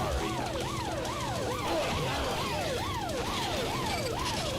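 A police car siren from the video game Carmageddon wails in a steady rising and falling cycle, loud and continuous over a dense engine and road roar.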